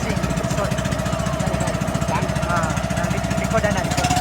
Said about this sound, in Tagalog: Andar ng barko. Andar ng pambot.